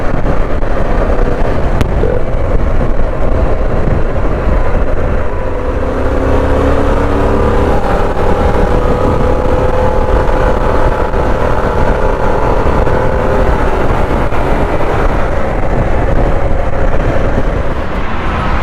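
A Harley-Davidson Pan America 1250 motorcycle cruises along an expressway: a loud, steady engine drone under constant wind rush, with no break and no talking.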